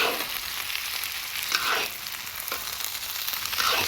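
Orange chicken sizzles and fries in a pan at a campsite while being stirred, a steady loud hiss with a few brief scraping surges from the stirring, no talking.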